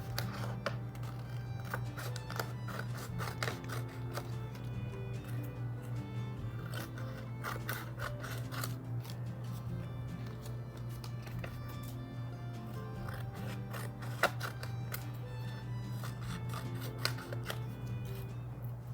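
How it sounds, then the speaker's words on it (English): Repeated crisp snips of scissors cutting leaf shapes out of paper over a steady low hum, irregular cuts throughout. "I took my scissors and actually just cut the leaf shapes apart"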